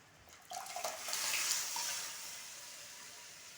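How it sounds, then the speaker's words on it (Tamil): Water left from rinsing a pressure cooker pours into a pot of moong dal payasam, a soft splashing stream that swells and then trails off, quiet and close. "குக்கர் கழுவின தண்ணியவே சேர்த்துருக்கேன்"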